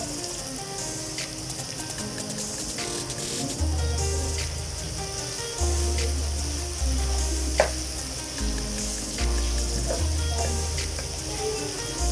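Boiled beef pieces sizzle and fry in a hot karahi for a Peshawari Shinwari karahi, a constant loud hiss with occasional scraping stirs, close up and with no one speaking.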